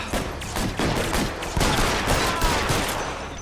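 Rapid, sustained gunfire from a shootout in the video game L.A. Noire, dense overlapping shots crackling loudly and continuously throughout.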